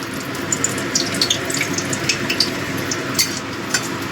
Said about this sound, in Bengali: তেলটা গরম হয়ে গেছে। আমি এবার দিয়ে দিচ্ছি 3টে শুকনো লঙ্কা।